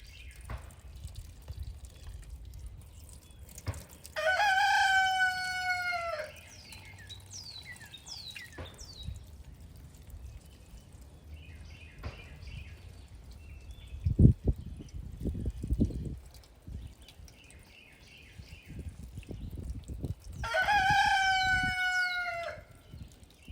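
A rooster crows loudly twice, once early and once near the end, with chickens clucking and rustling close by in a backyard garden and a few scattered drips and knocks in between.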